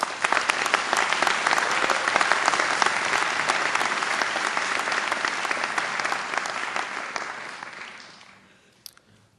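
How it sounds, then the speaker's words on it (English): A large commencement crowd at Carnegie Mellon applauds the graduates' parents: a dense, steady wash of clapping that holds strongly for about eight seconds, then fades quickly to near silence. "if we can have a round of applause for the parents"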